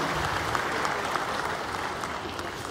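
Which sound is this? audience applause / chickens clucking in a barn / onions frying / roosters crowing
audience applause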